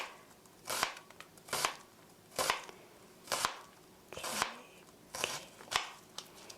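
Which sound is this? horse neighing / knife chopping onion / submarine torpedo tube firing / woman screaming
knife chopping onion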